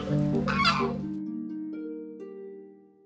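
A loud burst of honking from geese close by, fading into a sustained tonal call that trails off.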